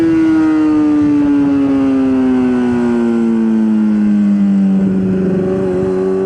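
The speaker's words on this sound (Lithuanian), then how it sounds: "Pakėlėt, važiuojat ant vienkės ir nuleidžiant atidarot gazą." A motorcycle engine revs loudly and steadily as the throttle opens while the rider lifts and sets down the front wheel in a wheelie, its pitch sliding slowly downward over about six seconds with no talk.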